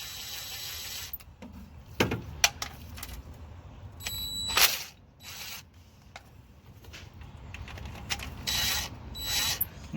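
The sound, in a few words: ratchet loosening bolts during Chevy K1500 engine removal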